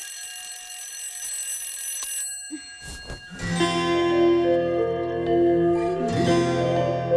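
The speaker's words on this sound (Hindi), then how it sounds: "ये अलार्म अपनी बेटी को उठाने के लिए लगाया है या पूरे मोहल्ले को?" An alarm clock rings with a bright, continuous electronic tone, briefly interrupted, then resumes louder and layered with added tones, close and insistent throughout.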